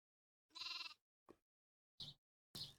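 A creature in a Minecraft modpack bleats like a goat: one long wavering bleat followed by three shorter, sharp bleats with gaps of silence between them.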